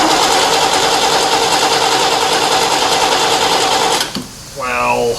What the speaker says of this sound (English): Well, put your foot to the floor and crank it.